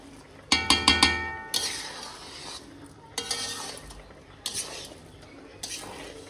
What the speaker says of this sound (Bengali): এটা আমি নেড়ে নেড়ে নেড়ে নেড়ে শুকনো করবো